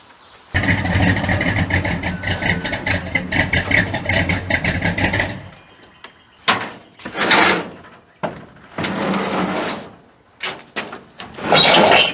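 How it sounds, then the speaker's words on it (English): A truck engine turns over and runs steadily for several seconds while backing up at a home shop, then cuts to a series of separate bursts of engine noise with short silences between them, loud and close. "let me back up just a wee bit more"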